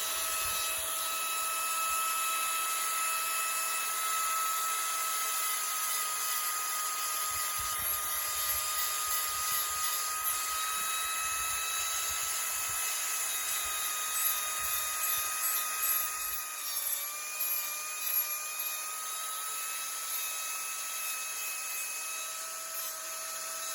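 Small-wheel power tool running continuously for the whole stretch, a steady high-pitched motor whine with slight shifts in pitch, close and fairly loud.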